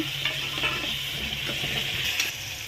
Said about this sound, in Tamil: இப்போ வெங்காயம் லைட்டாக வதங்கிட்டு அந்த அது மாதிரி தக்காளி சேர்த்துடலாம்